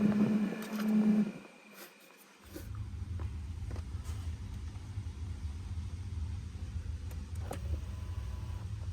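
A steady low rumbling motor drone with a faint grinding texture, continuous and close, after a brief quieter gap at the start, from an Audi Q7 blower fan motor with worn brushes.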